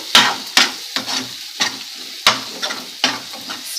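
Pink salt is stirred into gongura chutney, with rhythmic scraping spoon strokes about every half second over a soft sizzle, close and distinct.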